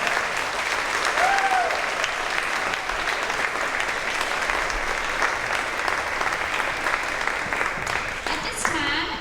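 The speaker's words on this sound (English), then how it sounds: "give these students a round of applause for that amazing achievement." Steady applause from parents in the audience at a third-grade promotion ceremony, broad and continuous throughout, fairly loud with a crowd murmur mixed in.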